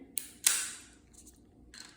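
A few faint, sharp plastic clicks and a short scraping snap as a laser bullet cartridge is inserted into a pistol, quiet and close, with near silence between them.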